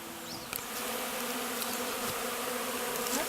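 A swarm of honeybees buzzing around a top bar hive outdoors, a dense steady drone of many wings close by with individual bees passing near, no voices over it.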